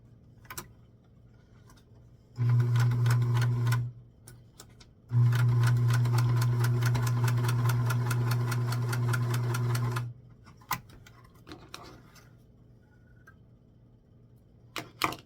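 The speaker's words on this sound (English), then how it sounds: "you are going to hold the front notch to the back notch and then sew across the bottom, which will give you your crotch seam" A sewing machine stitches the crotch seam of a small 4-inch doll dress, running in a short burst and then a longer steady run, close and loud, with quiet clicks and handling between runs and no talk.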